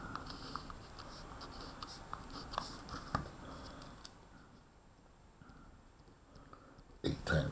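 Pen or marker strokes scratch steadily across a writing surface during a math lecture, a quiet series of short, irregular scribbles, with a soft thump and rustle near the end.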